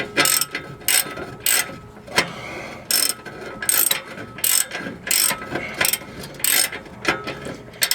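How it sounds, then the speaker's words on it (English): A ratchet wrench loosens a sway bar bushing bolt on a Chrysler 300, Dodge Magnum or Charger, clicking in quick close bursts of a dozen or so strokes with short pauses between them. "You might want to use a wrench adapter to get into this tight space, because there's not much space, but it's loose."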